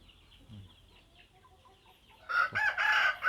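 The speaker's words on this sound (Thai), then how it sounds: "ไก่หนุ่ม" A young rooster in a backyard chicken pen in the morning gives soft, low clucks, then bursts into a loud, close, strained crow that fills the last second.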